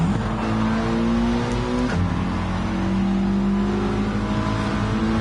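Race cars in a PS4 racing video game, engines droning loud and steady with shifting revs as the pack drives on, with no talk over it.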